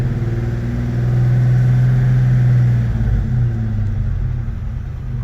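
A car with about 205,900 miles and a noisy clutch throw-out bearing idles outdoors, a steady, loud low rumble that swells slightly midway, with no talking.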